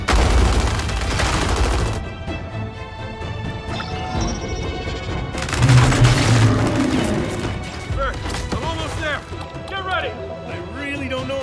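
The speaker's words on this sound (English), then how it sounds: "Covering fire!" Heavy gunfire from Gears of War gameplay, with dense crashing bursts and booms that swell in the middle, layered over a game score and shouted voices.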